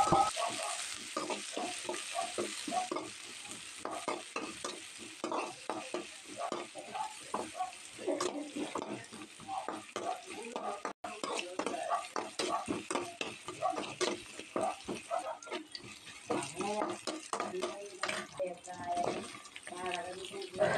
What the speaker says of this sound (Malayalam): ഞാൻ കുറച്ച് വെളുത്തുള്ളിയും പച്ചമുളകും കൂടെ ചതച്ചെടുത്തിട്ടുണ്ട് അത് എണ്ണയിലൊന്ന് മൂത്ത് വരണം